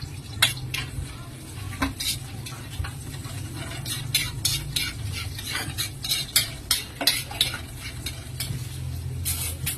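Onion and garlic sautéing in a pan, a continuous sizzle with frequent sharp clinks and scrapes of a metal utensil against the pan, close and fairly busy, over a low background hum.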